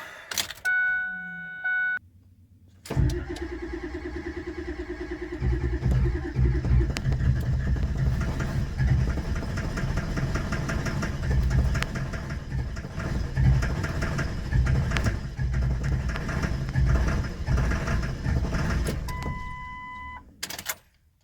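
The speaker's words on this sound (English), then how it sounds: "I'm gonna let this starter cool off for a bit and then go for it again" A Ford Super Duty Powerstroke diesel pickup, revived after sitting over three years, cranks briefly, then catches and runs with a loud, rough, steady engine roar close by, with chimes before and after.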